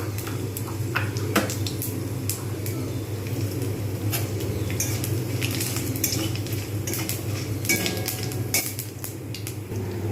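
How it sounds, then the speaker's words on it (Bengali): Panch phoron and dried red chillies frying in white oil, giving scattered sharp crackles and pops over a constant low hum, with occasional faint clinks of utensils. "এবার এর মধ্যে আমি যেহেতু তেল ঝাল করব তাই আমি এর মধ্যে দিয়ে দিলাম পাঁচ ফোড়ন আর শুকনো লঙ্কা"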